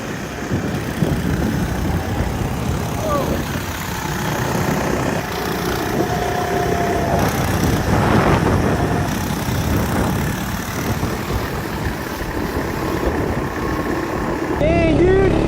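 Small FRP mini bike engine running with its governor locked out, a steady loud idle-to-rev drone held throughout with people talking over it.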